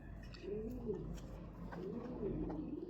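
A silver-style tournament racing pigeon coos softly in a few repeated rounded, throaty phrases, fairly close but quiet, with faint background noise and no talking.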